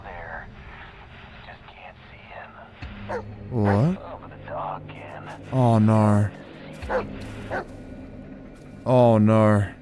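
A dog barks and yips three times in the Blair Witch video game, each bark loud and close and set well apart over a dark forest ambience. Someone talks quietly in between.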